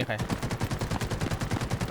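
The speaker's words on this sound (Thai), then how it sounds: "ยิงก่อน ยิงก่อนยิงก่อนยิงก่อน ยิงได้ยิงได้" Gunfire in the video game Delta Force: loud, rapid automatic shots fire in a steady stream of about ten per second, with a voice faintly underneath.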